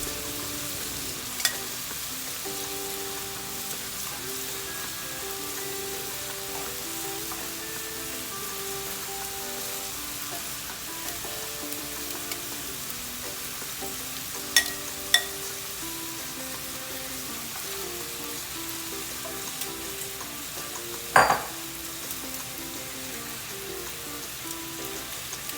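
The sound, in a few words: Alfredo sauce with jerk seasoning heating and simmering in pan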